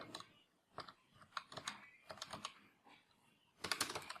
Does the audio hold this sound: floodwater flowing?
no